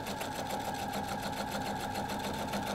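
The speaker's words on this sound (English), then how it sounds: "So I'm sewing these together" Sewing machine joining quilt block pieces, a close, even, fast stitching whir running continuously without pause.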